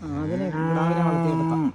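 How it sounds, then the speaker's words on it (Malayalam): A buffalo on a farm gives one long, loud, drawn-out low moo of nearly two seconds, close by and alone, ending abruptly. "ഒരു നല്ലൊരു എരുമയുണ്ടല്ലോ"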